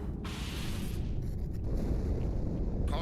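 A deep, sustained rumbling roar of an explosion aboard a ship in Halo 2, a dense low-end wash that continues for the whole stretch with faint higher crackles, loud and enveloping.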